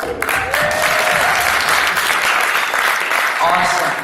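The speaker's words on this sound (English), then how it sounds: "let's give a round of applause for all the talented youth that are here that are gonna perform, that have performed" Steady audience applause at a stand-up comedy event honoring youth performers, a dense close wash of clapping hands with crowd voices mixed in, lasting about four seconds.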